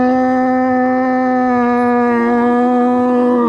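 An old sea lion gives a big, sustained roar at a marine park encounter, a loud, steady harmonic bellow holding close to the microphone for several seconds without a break.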